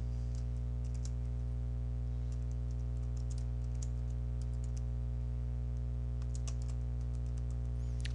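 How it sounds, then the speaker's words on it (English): Typing text on a computer keyboard for a Photoshop Elements 9.0 lesson: a quiet stream of irregular key clicks in small clusters over a steady low electrical hum, with no talk. "you type the text that you want using your keyboard"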